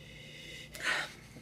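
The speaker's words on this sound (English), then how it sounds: "Let's give this wine, say it with me," A short sniff of a glass of Ohio white wine, a close, breathy inhalation rising and fading within about a second, with quiet room hiss around it.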